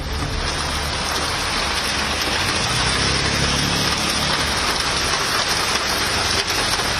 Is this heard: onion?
no